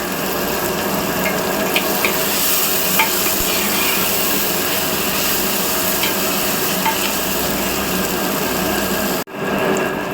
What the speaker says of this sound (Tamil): நல்ல வெங்காயம் தக்காளி எல்லாமே நல்லா வதங்கிடுச்சு